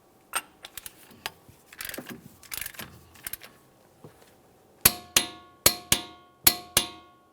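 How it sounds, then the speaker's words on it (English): Hammer blows on a punch peen an axle nut into the axle shaft slot on a 2006-2012 Ford Fusion front hub, five sharp ringing metallic strikes in steady rhythm after scattered lighter clinks and handling noises. "After that, we'll peen the nut into the corresponding slot on the axle shaft."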